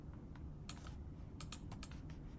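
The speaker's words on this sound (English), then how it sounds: "you would just press Alt and then click on the keyboard" Fast, light keystrokes on a computer keyboard, a short burst of clicks heard faint and close with no voices.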